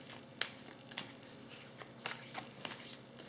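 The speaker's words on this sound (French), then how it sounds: "je vais tirer encore 4 cartes" Tarot cards drawn and handled at close range, with several crisp papery snaps and slides spaced irregularly over a quiet background, no talking.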